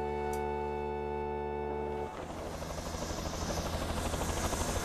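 A steady tonal hum cuts off abruptly, giving way to a loud, rhythmic whirring of a cartoon helicopter's rotors that continues close by.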